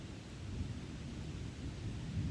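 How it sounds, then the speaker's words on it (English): Low rolling thunder from an approaching thunderstorm rumbles on a hike between the Delaware Water Gap and Crater Lake, New Jersey, a continuous faint distant growl with no talk. "The thunder and the rain came, and it was very refreshing."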